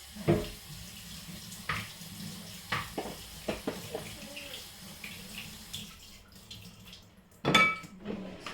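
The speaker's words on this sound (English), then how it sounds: "So I put the cold water." Cold water running from a kitchen tap into a sink, a quiet continuous trickle broken by several splashes and clatters, with a louder gush near the end.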